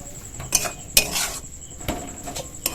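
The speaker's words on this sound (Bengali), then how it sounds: "এবার নেড়ে চেড়ে আরও 2 মিনিট লো ফ্লেমে" Egg curry being stirred in a pan over a low flame, with scattered clinks and scrapes of a utensil against the metal and a faint sizzle underneath, close and fairly quiet.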